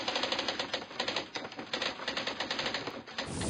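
Typewriter sound effect at the opening of a footy show segment, rapid rhythmic key clacks close and loud for about three seconds, ending with a carriage bell ding, no voices.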